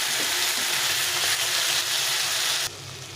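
White cumin seeds sizzle hard in hot oil for tempering a mash of potato and pointed gourd, a loud, close, crackling fry that drops sharply quieter near the end.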